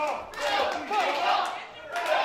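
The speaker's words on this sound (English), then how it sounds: "Crowd chanting for Filthy Tom" A wrestling crowd chants in rhythmic, rising waves for Filthy Tom Lawlor, a loud arena of voices swelling together in a repeated call.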